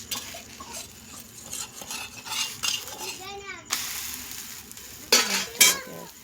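Food frying in hot oil while being stirred in a pan, with a spoon scraping and clinking against the metal in bursts over a steady sizzle, and a voice briefly audible nearby.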